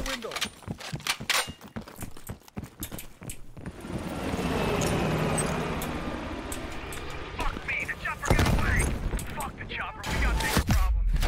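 Gunfire in the Call of Duty Cold War campaign on Realism difficulty: sharp shot bursts crackle at the start and again near the end, with a sustained roaring rumble between them and a voice talking over it.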